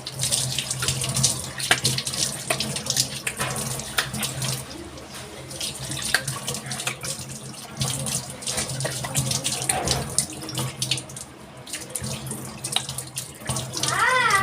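A tap runs steadily into a sink while a face is washed, with continuous splashing and occasional shifts in the flow.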